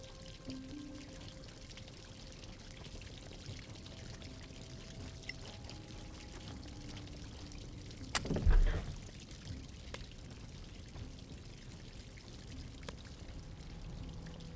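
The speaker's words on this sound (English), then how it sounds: "Ah, the water sound is nice." Running water trickles steadily through a dungeon in Solasta: Crown of the Magister, a soft continuous wash with one brief louder splash partway through.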